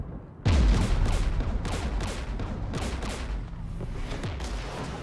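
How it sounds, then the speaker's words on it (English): Gunfire in Mass Effect 3 opens with a sudden heavy boom, then sustained loud volleys of shots roll on with sharp cracks and booming impacts throughout. "We're taking fire."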